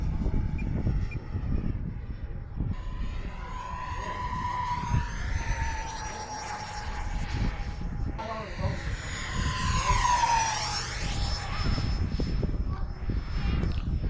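A Freewing F/A-18C Hornet Blue Angels 90mm EDF RC jet whines in to land, its ducted fan rising and falling in pitch as it sweeps past twice over steady outdoor noise, with people talking nearby.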